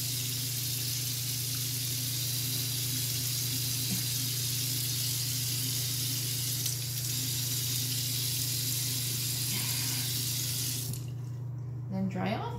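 A tap runs steadily into a sink while makeup is washed off a face, a constant hiss of flowing water with a low hum beneath, before it cuts off near the end.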